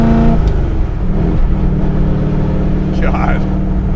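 A Shelby GT350 pulls in fifth gear, its engine a steady, loud, low drone that holds throughout from inside the car.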